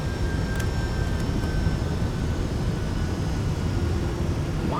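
Simulated Boeing 757-300 on landing approach in the X-Plane 12 flight simulator, a loud, steady broadband jet engine and airflow roar that holds constant, with faint thin tones and brief clicks, no speech.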